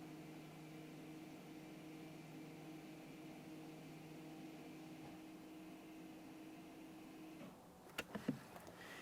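Rear electric parking brake motors on a 2014-2018 Mazda 3 in maintenance mode give a faint, steady electric whine that runs for several seconds, then cuts off, followed by a few quick clicks.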